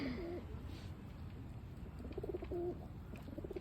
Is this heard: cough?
no